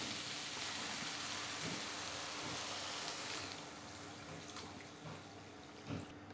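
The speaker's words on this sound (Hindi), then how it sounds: "हम इसमें पानी मिला देंगे।" Water poured into a cooking pan of chicken pieces and potatoes, a steady splashing rush that runs for several seconds before easing to a softer trickle with a few small clinks.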